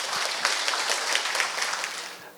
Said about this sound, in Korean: 박수 한 번 더 부탁드립니다